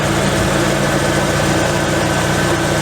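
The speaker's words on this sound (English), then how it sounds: "the engine's not tweaking, dude." A car engine runs steadily at idle, a continuous low rumble with a vibrating hum, close and loud, with no voices over it.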